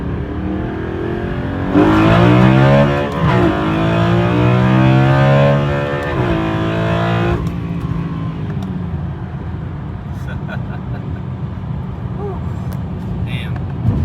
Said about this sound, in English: I'll do a little pull to Redline once it's warmed up.